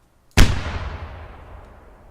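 A single sharp, loud gunshot cracks out after brief silence, followed by a long rumbling tail that gradually fades.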